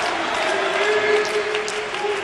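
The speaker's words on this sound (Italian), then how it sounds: "si prende gli applausi del pubblico" A crowd at an Italian Serie A men's handball match between Fasano and Trieste applauds a goalkeeper's save, steady clapping spread across the arena with a faint tonal hum beneath it.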